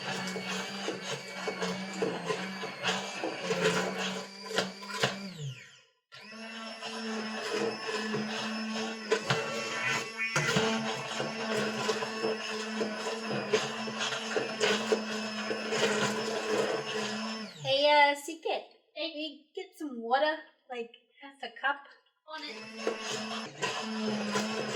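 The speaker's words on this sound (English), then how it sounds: "But I got an immersion blender," An immersion blender purees tomatoes with a loud, harsh whirring buzz that runs steadily, cuts out briefly, restarts, then sputters in short uneven bursts before whirring again.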